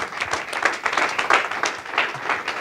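A congregation applauding during a church service, a steady wash of clapping from many hands that stays fairly loud and even from start to finish.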